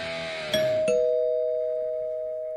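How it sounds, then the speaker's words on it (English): Rock and roll novelty doorbell: a brief strummed or struck chord gives way to two quick ding-dong tones that ring on as a long, steady, slowly fading chime, with no talking. "So that's another version of the rock and roll doorbell."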